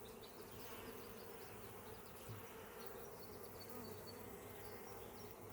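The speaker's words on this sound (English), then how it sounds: "For the number of bees in here" Honey bees buzz inside an open beehive, a dense, steady hum of many insects that stays constant throughout, faint and close.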